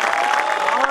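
Crowd applause at a Hindi poetry recital in Dehradun, a loud, dense burst of clapping from a large audience, with cheering mixed in.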